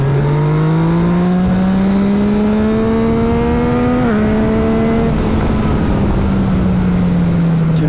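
A loud, close engine of a 2018 Yamaha MT-09 motorcycle drones steadily, its pitch rising slowly, then dipping at a gear change before settling into a sustained hum.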